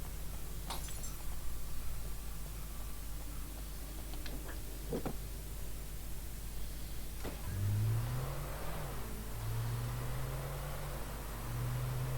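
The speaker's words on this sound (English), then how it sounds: "the wonderful noises of a different car sounding exactly the same as the last car" A steady synthetic video game car engine drone runs throughout, with a few clicks and a revving pitch that rises and holds near the end.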